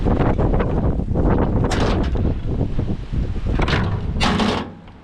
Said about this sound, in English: Wind's still blowing like hell.